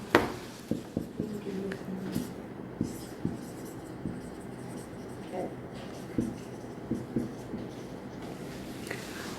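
Chalk or marker writing on a board during an accounts lecture: irregular scratchy strokes and taps, fairly quiet, with someone speaking intermittently between them.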